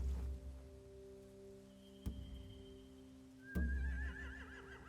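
A horse whinnies in The Walking Dead: Final Season video game, with a wavering, high-pitched call toward the end, over a steady low hum and a couple of sharp clicks. No voices.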